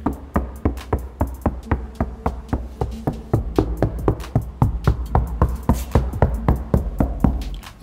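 Rapid, steady knocking on an insulated Ford Focus door panel, a long run of close, crisp taps that grows slightly heavier partway through, with no talking.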